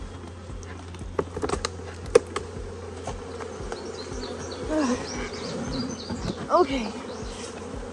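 Honeybees buzz around a hive on an agitated day as they flood inside, a close, continuous droning hum with individual bees passing near; a person briefly speaks.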